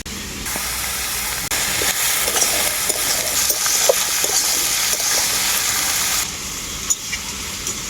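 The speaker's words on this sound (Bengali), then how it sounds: "লবণটা দেওয়ার পর হালকা একটু নাড়াচাড়া করে নিয়েছি" Watermelon rind curry being stirred in a frying pan just after salt goes in, giving a steady, close sizzle and hiss with scraping stir strokes throughout and no talk.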